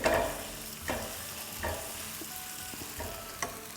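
Chopped garlic and crushed green chili sauté in a hot pan for chicken chili noodles, a soft steady sizzle punctuated by scraping spatula strokes roughly every second.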